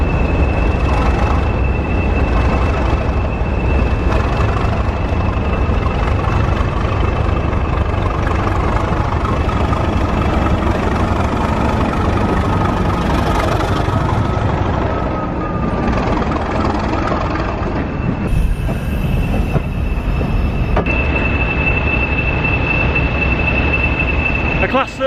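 Class 37 and Class 40 diesel locomotives stand together at a preserved railway station, giving a steady, heavy low rumble and a constant high whine for the whole stretch, with faint voices in the background.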